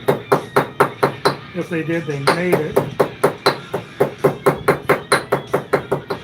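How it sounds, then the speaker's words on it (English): A small hand hammer strikes in a steady, regular run of sharp, loud blows, close by, with a brief pause while someone talks partway through. "They didn't even have a nice little hammer like this."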